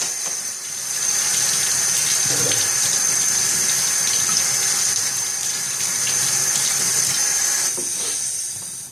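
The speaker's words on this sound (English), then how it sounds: "Our scales are rinsed and cleaned off." Tap water runs steadily over dyed G10 knife handle scales being rinsed in a sink, a continuous close splashing flow with no talking.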